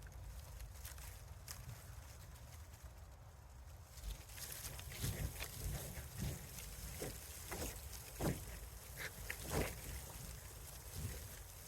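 Dyneema tent fabric flaps and snaps in cold gusts of wind, a series of sharp irregular cracks and rustles over a low, steady wind rush, faint and close.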